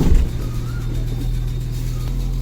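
A Maruti Suzuki Eeco van engine runs at a low, steady idle after a gear shift, with a brief louder knock at the start followed by a constant close rumble.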